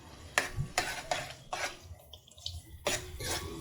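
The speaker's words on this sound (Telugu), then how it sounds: "ఈ అల్లం వెల్లుల్లి పేస్ట్ పచ్చివాసన పోయేదాకా వేగనివ్వండి." Ginger garlic paste fries with curry leaves in a pan for a seabass curry. A spoon scrapes and stirs in short repeated bursts, with brief quieter gaps and soft sizzling underneath.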